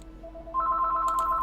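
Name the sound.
telephone ringing repeatedly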